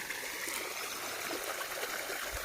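Water runs along a field irrigation channel, a steady soft trickling stream close by with no talk over it.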